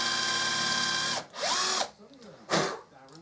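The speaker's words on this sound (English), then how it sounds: "So now I need to drill a hole in the end" A power drill bores a 9mm hole in the end of a cut bolt, starting with a sustained steady whine. Shorter bursts follow as the motor revs up and winds down, close and moderately loud.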